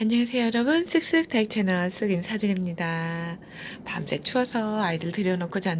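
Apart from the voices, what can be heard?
No everyday noise stands out behind the speech.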